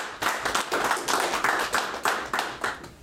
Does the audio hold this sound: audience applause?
yes